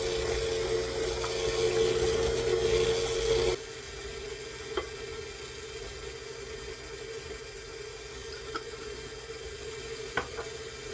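Electric mixer whirring steadily through apple spice cake batter, loud and continuous for a few seconds before dropping to a lower hum with occasional light clinks, no voices.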